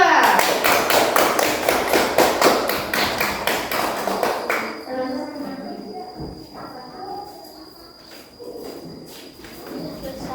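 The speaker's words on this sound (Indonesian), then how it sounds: "Berikan tepuk tangan untuk kelompok 2." Loud, dense applause from a room full of people at a group discussion presentation, pulsing steadily for several seconds before fading into a murmur of voices and rustling.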